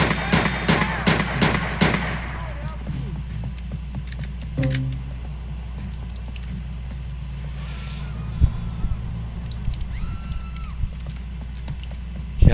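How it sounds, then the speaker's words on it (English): Rapid bursts of automatic gunfire in the video game GTA IV open the scene, loud and close, followed by scattered single shots and clatter over a steady low engine-like hum. "Yeah, that's a gun."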